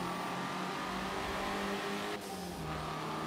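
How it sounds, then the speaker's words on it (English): A 2019 Hyundai Veloster Turbo in Forza Motorsport 7 revs steadily with a sustained turbo engine drone, briefly dipping in pitch before pulling again, heard alone without talk. "Oh, you can hear that turbo good."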